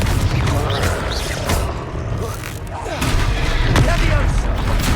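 Blasting-spell explosions in the Hogwarts Legacy video game, heavy booming blasts and rumbling impacts in a dense, continuous battle din, loud and close.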